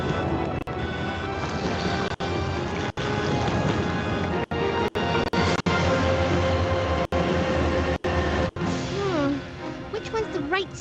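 A moving train in Resident Evil 2 gives a constant loud rumbling roar that runs throughout, broken by brief sharp dropouts, with voices speaking over it.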